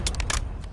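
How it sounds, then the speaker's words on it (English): A gun magazine is swapped in a combat video game, heard as a quick series of four or five crisp metallic clicks over low background rumble. "Changing mag!"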